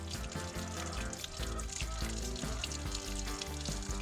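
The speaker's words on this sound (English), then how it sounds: "I'm gonna wait till that water drains out." Water drains out of an RV water heater tank in a steady gushing, sizzling stream, close and continuous, with a low rumbling undertone.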